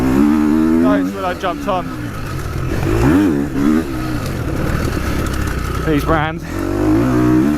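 GASGAS dirt bike engine revving high and winding through its rev range, rising and falling in pitch with a buzzing roar while someone talks over it.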